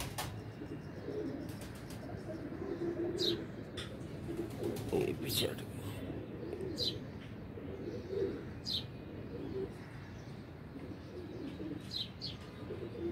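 Pigeons perched up high, probably racing or flying birds, coo softly at a distance over a steady outdoor background, with someone talking quietly near the microphone through much of it.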